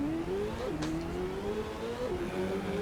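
Car engine from the Mode 7 racing video game Exhaust Heat, a steady synthesized motor drone that shifts pitch up and down as gears change, continuous and close with no talking.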